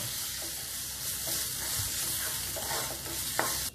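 Mutton sizzles loudly as it sautés in a hot pan, with continuous crackling and the scrape of a spoon stirring, ending in a sharp clink.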